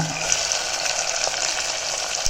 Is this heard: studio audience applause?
no